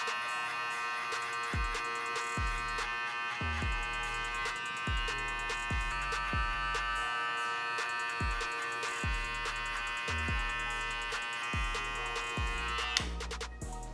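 An electric hair clipper with no guard and its lever fully open hums steadily throughout, cutting a skin-fade guideline, with soft repeated thumps of the clipper against the head every second or so.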